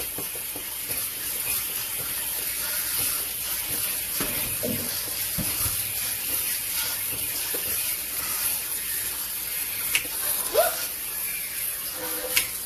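A kitchen sink sprayer runs in a continuous, fairly loud hiss of water in a home kitchen while pasta is being cooked, with a few small clunks near the end.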